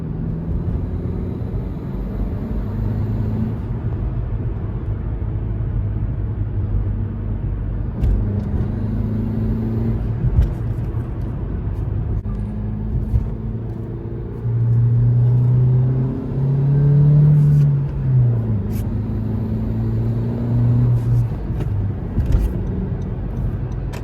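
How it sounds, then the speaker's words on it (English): Car engine with a turbo blow-off valve and a leak: a steady idle rumble with repeated rev swells and brief hissy releases, close and fairly loud, with no talk over it. "here's the leak plus a little turbo blow-off valve"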